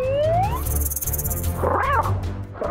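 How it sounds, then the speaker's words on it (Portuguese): A cat meows loudly and close by, giving a rising cry followed by a wavering, strained second call over a low rumbling background. "Esse miado tá vindo de dentro da barriga da cobra?"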